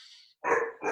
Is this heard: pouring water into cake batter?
no